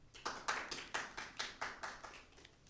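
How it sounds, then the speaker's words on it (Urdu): Audience applause at an Urdu mushaira poetry gathering held for Advent: steady rhythmic clapping from a small crowd, evenly paced and moderately loud, with no one speaking over it. "آپ کی بھرپور تالیوں کی آواز میں"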